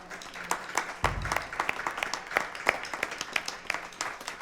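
Scattered clapping builds into a round of applause from an audience at a jazz concert series, a lively patter of many hands that carries on steadily, fairly close.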